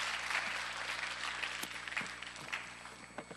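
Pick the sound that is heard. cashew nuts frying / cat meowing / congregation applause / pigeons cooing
congregation applause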